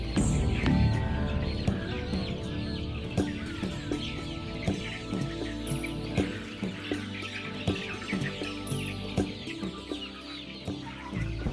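Young laying hens at a poultry farm, about 46 days old, cluck and chatter as a dense flock, many overlapping calls at moderate loudness, steady throughout with no talking.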